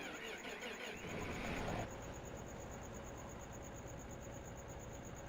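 A tractor engine idles steadily in a farming simulation game, a low continuous mechanical drone that swells briefly at the start and then settles into an even, moderately close hum with a faint high whine running throughout.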